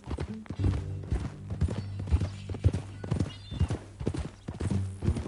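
Horse hooves clip-clopping in Red Dead Redemption 2, a steady series of close, distinct hoof strikes at a walking pace, with the horse's snorts and whinny mixed in and some talk underneath.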